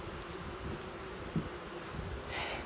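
Honey bees buzz softly and continuously around hive frames, a low even hum with a brief knock partway through.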